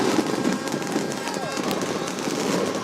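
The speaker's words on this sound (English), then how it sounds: "Fireworks going off everywhere." Fireworks crackle and pop densely all around at a packed high school football stadium as the teams take the field for a quarterfinal game, under a roaring crowd and someone talking.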